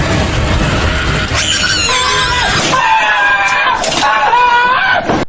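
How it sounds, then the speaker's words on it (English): A monkey creature in the horror game Dark Deception lets out a loud, shrill, wailing screech that rises and wavers for several seconds, sitting over game music and effects. "monkey business just has to get one more stupid ass monkey screech in"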